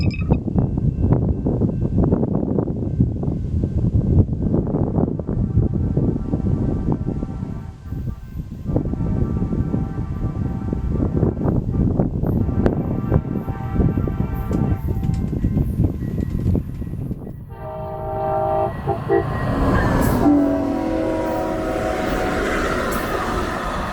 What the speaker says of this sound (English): southbound Amtrak number 318, the Carl Sandburg bound for Quincy, Illinois, is approaching our location